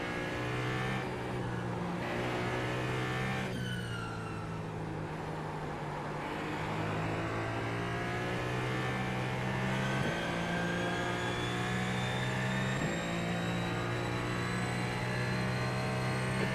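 A Ferrari 499P hypercar in iRacing drives on, its engine droning loud and continuous as it accelerates, shifts gears and revs with rising and falling pitch, heard alone without talk.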